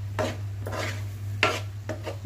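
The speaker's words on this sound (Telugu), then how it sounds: "ఒకసారి బాగా కలుపుదాం." A spoon stirs chicken gravy curry with coriander powder and chicken masala in a pan, giving several short scraping strokes close by over a low steady hum.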